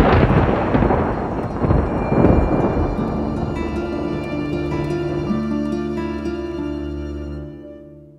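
Thunder rumbles during a storm, with a heavy, booming roll that slowly decays over several seconds, loud and alone without voices.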